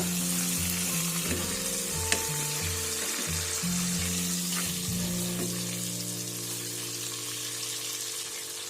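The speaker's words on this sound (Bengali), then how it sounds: "অপর পিঠটা খুব সুন্দর করে ভালো করে ভাজতে হবে।" A fish head sizzles steadily in hot oil in a pan, with a few soft knocks as it is turned. The frying is close and continuous, with no talk.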